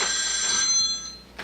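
A telephone rings at a water board meeting, its bright electronic trill sounding alone for about a second before a shorter second burst.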